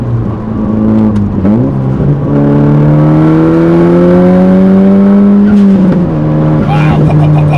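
A Nissan Pulsar GTiR with a 350bhp tune accelerates hard, its engine note rising steadily through the gears, loud and close from inside the car.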